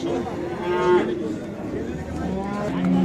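Cattle at the Parkent livestock market in Tashkent region, Uzbekistan, give several loud, drawn-out moos close by, over a steady background of market crowd murmur.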